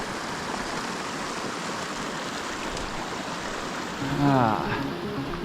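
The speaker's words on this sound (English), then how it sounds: "Well, the road has turned into a creek." Creek water rushes across a mountain road at about 11,400 feet on a Colorado 14er hike, making a steady, broad, close hiss. A brief voice-like sound rises over it near the end.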